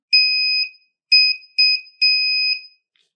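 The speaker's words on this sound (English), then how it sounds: "When you press, it is going to make a beeping sound," An electronic beeper in a DIY smart-home kit circuit sounds four times, loud, shrill, two-toned tones of uneven length with short silent gaps between them, no voices.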